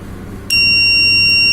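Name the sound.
electronic buzzer alarm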